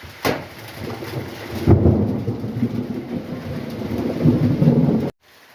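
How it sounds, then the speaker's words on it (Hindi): Steady rain pours down with a dense hiss, and a sharp crack of thunder strikes early before the downpour swells. "अरे बारिश"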